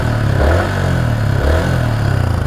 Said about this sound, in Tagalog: Kung gusto mong pakinggan, naka-neutral naman. Rinig na rinig mo yung ganda ng makina.